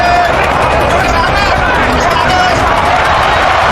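A dense, loud roar from a boxing arena crowd at the Pacquiao vs Margarito fight, sustained without a break throughout.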